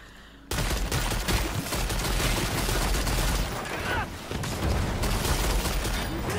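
A Gatling machine gun fires in the video game Lost Ark as one loud, continuous burst of rapid shots. It runs for several seconds with a brief dip near the middle.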